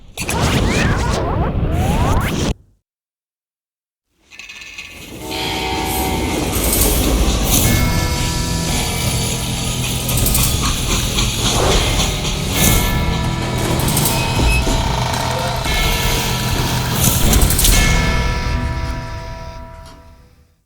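Loud rumbling freight train noise from the video game Call of Juarez: Gunslinger, with rattling wagons and clanking, interrupted by a brief silence, then a long continuous roll of rail clatter.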